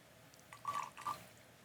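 Lemon juice poured for a cocktail, two short, faint liquid splashes and drips in quick succession against a quiet background.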